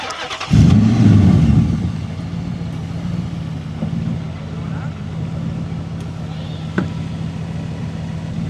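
Dodge Magnum fitted with a Whipple supercharger: a loud engine roar bursts in after half a second, then settles into a steady, droning rumble, with a sharp knock near the end and voices of onlookers mixed in.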